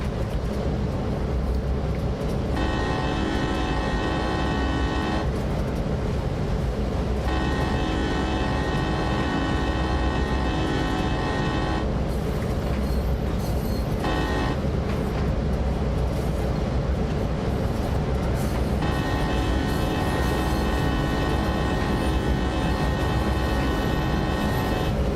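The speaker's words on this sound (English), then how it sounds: "The engine sounds in these are about spot on" A train's engine runs steadily in the Train Sim World railway simulator, a continuous loud drone and rumble with tonal layers that come and go throughout, with no talk over it.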